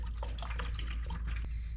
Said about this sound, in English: we can do is just put the rust remover and pour it in here